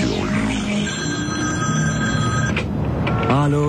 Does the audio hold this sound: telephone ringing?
yes